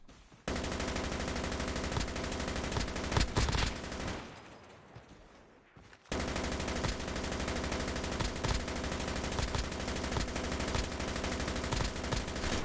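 Dense, continuous automatic gunfire from a Call of Duty Mobile match in solo-versus-squads mode, loud and sustained with a brief dip into quieter shots midway before the heavy firing resumes.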